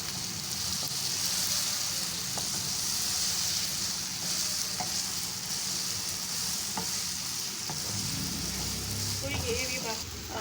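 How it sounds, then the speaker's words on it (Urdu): Spices sizzle and fry steadily in a hot pan for Pakistani korma, stirred now and then with a spoon scraping and clinking, a continuous close crackle. "ابھی اس کو ہم اچھے سے بھون رہے ہیں"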